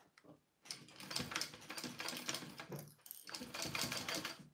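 Sewing machine stitching a zipper onto a clear jelly peek-a-boo pouch, with quick bursts of rapid mechanical stitching after a brief quiet start, close and fairly loud throughout.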